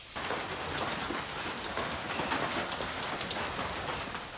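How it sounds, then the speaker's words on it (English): Hail pelts sidewalks, yards and roofs in Dallas, Texas in a dense, steady clatter of countless small impacts, with no voices. "In Dallas, hail pelted sidewalks, yards, and roofs in Oak Cliff, Kessler Park, and Winnetka Heights."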